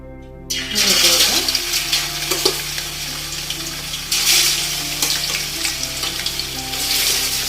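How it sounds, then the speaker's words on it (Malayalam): Fish fries loudly in sesame oil over medium heat after a brief quiet start, with a strong continuous sizzle and occasional stirring scrapes. "ഒരു മീഡിയം ലെവലിൽ ആദ്യം ഫ്രൈ ചെയ്തെടുക്കുക"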